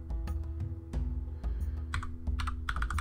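Fast, uneven typing on a computer keyboard, crisp clustered keystrokes close up over a low steady hum from a video game session, with no voices.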